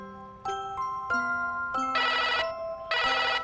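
A melodic electronic phone ringtone plays alone, a sequence of stepped tones broken by two buzzy, bright bursts, clear and close.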